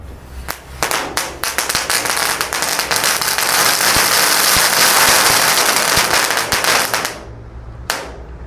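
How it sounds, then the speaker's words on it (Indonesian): A hundred dino egg firecrackers and spinners burst inside a gallon water jug in a loud, dense crackling barrage of rapid pops for several seconds, then it cuts off abruptly, with one last sharp bang. "menyalakan 100 biji mercon telur dino dan gangsingan di dalam galon"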